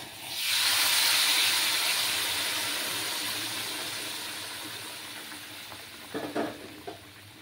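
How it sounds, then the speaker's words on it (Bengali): Hot water is poured onto a cooked-down spice paste while cooking a fish curry with papaya and potato, giving a sudden loud steamy hiss that slowly fades, then a few brief clinks near the end. "মশলাটা আমার কষে গেছে, এবার আমি গরম জল দেব।"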